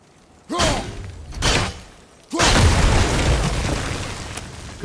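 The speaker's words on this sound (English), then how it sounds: "Good thing that explosion is like 2 feet." Explosions from the video game God of War (2018): a loud boom bursts out, a second blast follows about a second later, then a long heavy rumbling roar rolls on to the end.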